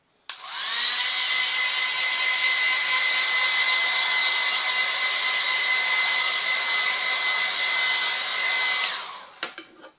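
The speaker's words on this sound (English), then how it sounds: "just going to give that a quick dry, so put your fingers in your ears" A hair dryer blows on fresh paint to dry it, a loud continuous whirring roar that starts abruptly, holds steady for about eight seconds close up, then cuts off and winds down.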